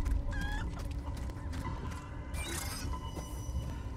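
A chicken clucks in Resident Evil 4 Remake, with short repeated clucks over a dense background of game ambience and mechanical clatter, faint and with no talk.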